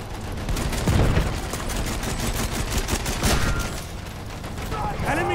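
Rapid gunfire from a Battlefield 1 multiplayer match, bursts of automatic and single shots crackling continuously at close to mid range, with in-game mechanical clatter and a brief whistling whine near the end.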